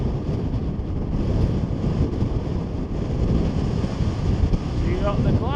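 Strong wind buffeting a microphone on an Icelandic beach, a loud continuous low rumble and roar throughout, with faint surf and a speaking voice partly buried underneath.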